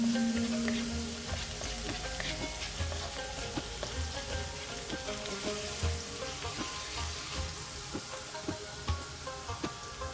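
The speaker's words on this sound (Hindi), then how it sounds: "हल्का सा फ्राई करेंगे कि इसकी खुशबू आ जाए" Spices frying lightly in a pan, a continuous soft sizzle with scattered crackles and occasional stirring clinks, close and moderately quiet, no voices.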